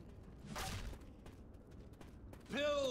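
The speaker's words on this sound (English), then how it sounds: "I hate birds." A harsh bird caw with a rising, tonal edge cuts in near the end of a tense Left 4 Dead 2 zombie-survival level, following a stretch of muffled gameplay noise and thuds.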